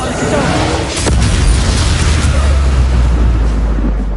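A loud, booming Expulsor spell explosion in Hogwarts Legacy, a sustained roar that swells after a sharp onset and rumbles on heavily through the clip.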